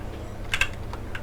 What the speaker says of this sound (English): I'm so bad at typing today